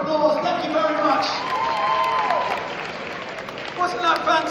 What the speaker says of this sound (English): All right, let's give them a round of applause.